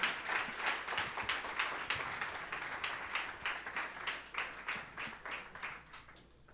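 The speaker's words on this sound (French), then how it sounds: "on peut encore y donner une bonne main d'applaudissement à tout le monde" Audience at an evening presentation event clapping, a rhythmic patter of scattered hands that starts fairly full and thins to sparser claps toward the end.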